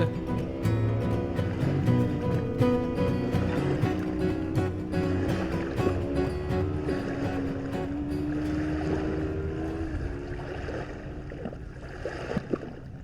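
Ferry crossing from Hatteras Island to Ocracoke, a steady low engine drone with water and wind noise close by, continuous throughout.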